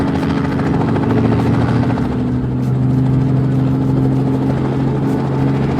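A toy aircraft styled as a hospital helicopter starts up for takeoff with a steady, loud motor whir and droning hum that holds evenly throughout, with no talk over it.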